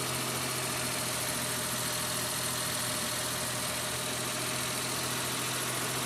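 A small Suzuki Mighty Boy 3-cylinder engine idles smoothly and steadily, a close, even low hum with a constant drone and no other sounds.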